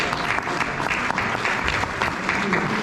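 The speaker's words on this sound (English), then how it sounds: "why don't you give yourselves a round of applause for being informed" Audience at a US congressional district candidate debate gives itself a round of applause, a full, continuous burst of crowd clapping, loud and uninterrupted throughout.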